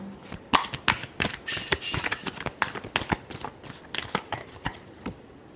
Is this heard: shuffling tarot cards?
yes